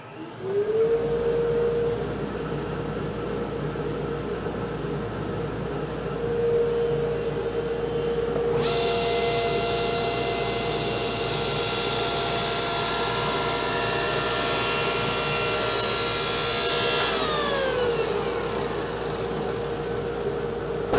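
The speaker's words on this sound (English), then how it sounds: "I use the oscillating tool to cut out the piece that's just waste" An oscillating multi-tool cuts out a waste piece of wood in a workshop, a loud steady motor whine and buzz that grows harsher partway through as the blade bites, then winds down near the end.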